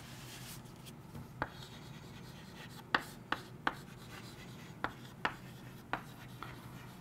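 Pen or marker strokes on a board or page while writing notes in a biology lesson, faint scratching broken by several sharp taps and clicks spaced irregularly against a quiet room hum.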